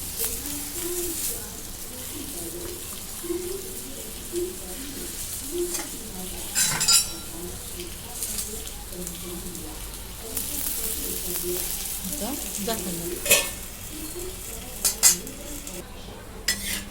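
Dhapate flatbread roasts on a pan and is flipped to cook the other side: scattered metal clinks and scrapes from a utensil over a low, steady sizzle, with a few sharper knocks near the end.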